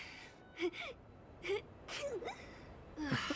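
A few small, high-pitched sneezes and gasping breaths from a cartoonish character voice in the video game Honkai: Star Rail, quick and close, over a soft background hiss.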